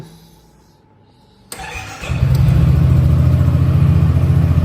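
A red Yamaha XMAX 300 scooter with about 16,000 km and a stock engine starts after a short quiet moment. It fires with a click and whir, then settles into a loud, steady, close-up idle.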